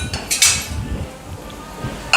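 A pot of peas masala is lifted off the stove, with metallic clanks and clinks of the vessel against the burner and utensils, close and fairly loud, and a few brief knocks.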